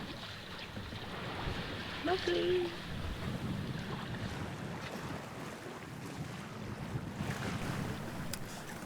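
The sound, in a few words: sailboat on water with wind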